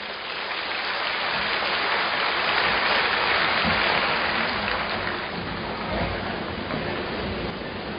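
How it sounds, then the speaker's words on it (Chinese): An audience applauds to welcome a speaker at a Buddhist sharing gathering, giving a dense, steady wash of clapping that holds for the whole stretch with no voices. "让我们掌声欢迎。"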